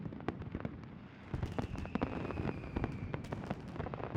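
Fireworks in the game Love and Deepspace: a steady barrage of sharp crackling bursts and pops with a whistling trail, dense and loud throughout.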